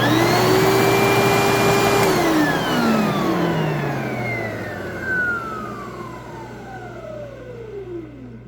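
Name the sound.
Advance Spectrum 12P commercial upright vacuum cleaner running without filter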